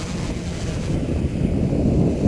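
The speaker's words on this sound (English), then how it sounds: "It is windy today, so it's a pretty good test day for this." Wind roars loudly across an outdoor microphone during an RC aircraft gimbal test, a dense low rumble that holds steady and builds slightly, with no speech.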